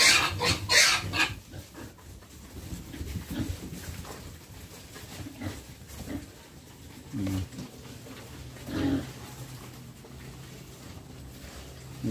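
Pigs on a farm grunt and snort in short bursts, loudest and most clustered at the start, then scattered grunts continue under a person talking nearby.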